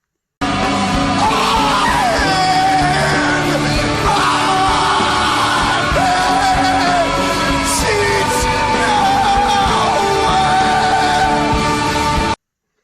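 A sustained, full-band scream over dense band instrumentation in the outro of a song, loud and continuous for about twelve seconds with shifting strained pitch.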